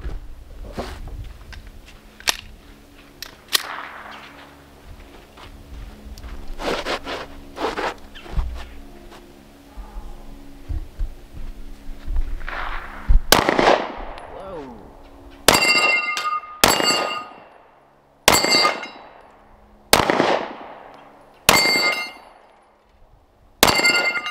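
Smith & Wesson M&P 9mm pistol with a 4¼-inch barrel fired outdoors in six sharp, loud shots at a steady pace of roughly one every second and a half, each ringing briefly, after a stretch of clanks and handling noises.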